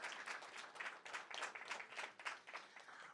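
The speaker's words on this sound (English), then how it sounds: "Please give them a round of applause." An audience at a business competition final round gives a short burst of applause, a fairly faint, steady patter of many hands clapping.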